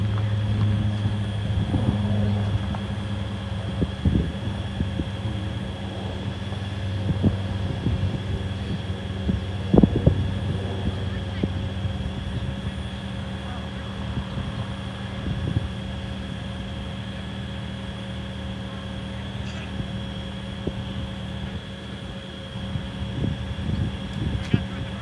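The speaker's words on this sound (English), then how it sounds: "And they got two super caravans flying." A Super Caravan skydiving plane drones at a distance in steady wind, with a continuous low engine hum and a few brief knocks and clicks close to the microphone.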